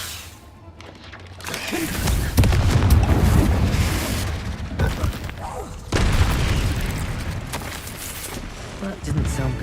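Booming spell blasts from the Bombarda and Confringo curses burst in the Hogwarts Legacy game, with several loud explosive impacts in a rolling sequence over busy combat noise and occasional voices.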